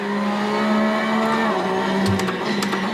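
A race car engine in the Assetto Corsa sim drones at high revs and falls in pitch as it downshifts through the gears. The sound is loud and steady, with brief tire squeal near the end.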